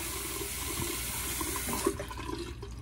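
Cold tap water runs steadily into a sink for wet shaving with a safety razor, a close, even rush of water that dips slightly near the end, with no voices.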